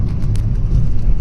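A car heard from inside the cabin while being driven, giving a steady, loud low engine and road rumble with no breaks for the whole stretch.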